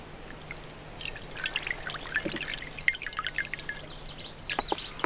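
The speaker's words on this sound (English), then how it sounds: "What do you think will happen when I pour the water over the board?" Water carrying suspended sediment is poured over a board partly covered with turf, giving a soft, steady trickle with scattered drips and splashes that build slightly toward the end, alone and fairly quiet.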